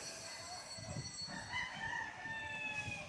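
Roosters crow and hens cluck in a busy outdoor setting, with a steady background rumble underneath the bird calls.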